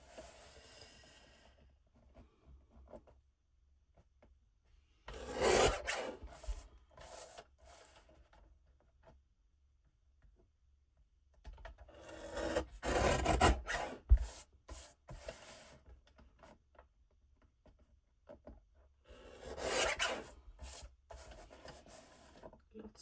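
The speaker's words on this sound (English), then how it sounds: "So once again, I am reaching for my guillotine cutter, and I am doing from this side." A guillotine paper cutter trims excess paper in three separate rasping, sliding strokes with quiet pauses between them. The strokes are close and fairly soft, and no one speaks.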